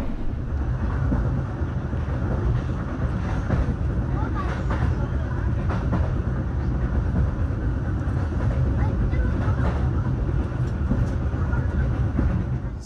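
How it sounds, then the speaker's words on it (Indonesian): Bengawan passenger train rolling along the rails, a steady loud low rumble with rattling and wind buffeting throughout, heard from on board with faint voices beneath. "perjalanan kereta api Bengawan telah tiba di stasiun Pegaden"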